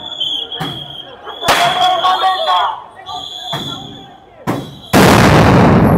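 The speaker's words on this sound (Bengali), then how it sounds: "একটির পর একটি সান গ্রেনেড কিন্তু ফাটানো হচ্ছে পুলিশের পক্ষ থেকে।" Police stun grenades going off during a street clash with protesting teachers near the secretariat, sharp loud bursts one after another, the last one a sustained roaring blast, with people shouting around them.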